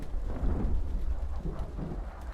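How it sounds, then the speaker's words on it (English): Rolling thunder with steady rain and low rumble in a Metal Gear Solid 4 storm scene, continuous and fairly loud, with no talk. "Man, I love storms."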